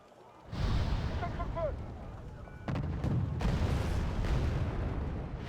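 Artillery fire in the wargame Wargame: Airland Battle shelling an M201 vehicle, a dense rolling barrage of deep booms and bursts that stays loud throughout, with someone talking over it.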